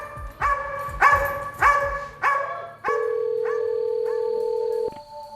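Several dogs bark loudly in a prison setting, a run of about five sharp, harmonic barks tapering into fainter yips, followed by a steady electronic tone.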